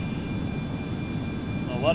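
Regional airliner engine in Flight Simulator X, a steady low droning hum with a faint high whine that holds level throughout and rises slightly near the end, while someone talks over it.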